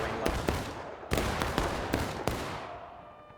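Musket volleys in the Civil War game War of Rights: several loud, sharp gunshots crack one after another, some overlapping into ragged fusillades, with distant rolling echoes between them.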